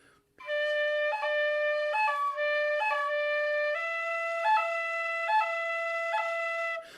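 A tin whistle plays a steady, bright run of sustained notes, each change marked by a short grace-note flick that sounds smeared rather than crisp, with the cut note briefly audible; solo, close and clear.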